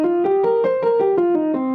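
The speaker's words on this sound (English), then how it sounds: "And if you do it in the relative minor key, it sounds like this." Pentatonic scale in the relative minor key, around eight evenly paced plucked notes stepping up and then back down, clean and close with no talking, in a jazz improvisation lecture setting.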